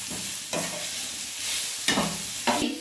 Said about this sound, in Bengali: তরকা ডালটা আমি ভালোভাবে মশলার সঙ্গে মিশিয়ে নিলাম